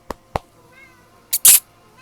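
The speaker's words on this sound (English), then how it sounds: "I know you're meowing. You're meowing." A cat meows in short calls close by, with sharper, louder cries near the end and a few soft clicks before them.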